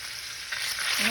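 Onions frying in a Dutch oven for Oktoberfest stew give a soft, brief sizzle that swells slightly as they are broken apart, close but fairly quiet.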